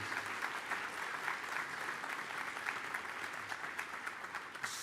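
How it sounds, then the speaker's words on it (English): Continuous applause from a sizable crowd, dense and even throughout, with no pauses in the clapping. "So a round of applause for the family that may be here and for your friends."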